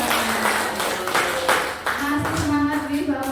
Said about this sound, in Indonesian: Betul 100 kali tepuk tangan untuk kita semua.